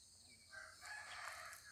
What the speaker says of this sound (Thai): เสียงไก่ขันเลยทีเดียว